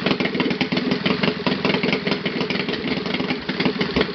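Saito FA 270T twin-cylinder model engine idles without glow support, a loud, continuous rapid putter with slightly uneven firing, alone with no talk.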